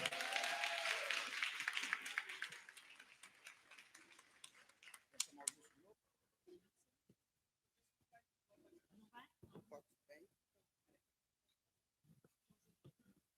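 Applause from an audience at a favela communication event in Brazil, a burst of clapping that fades out within about five seconds, followed by quiet scattered handling noises and brief sounds.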